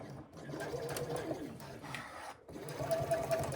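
A sewing machine stitching the side seam of a crossbody bag, running in a steady mechanical whir that pauses briefly partway through and then starts again, close and fairly quiet.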